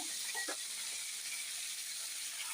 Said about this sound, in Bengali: এবার এগুলো ঢেলে দিলাম, সুন্দর করে কষাতে হবে বন্ধুরা।